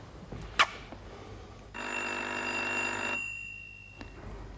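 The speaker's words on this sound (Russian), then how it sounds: "Этот телефонный звонок раздался на следующий день, в полдень, в издательстве." An old-style telephone bell rings in a single sustained burst of about a second and a half, fairly close and clear against a quiet room, with a brief click before it and no talk over it.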